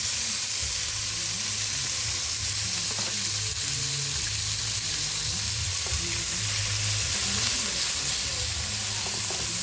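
Tilapia frying in a pan gives off a loud, continuous sizzle and crackle that stays steady and close throughout, with nobody talking.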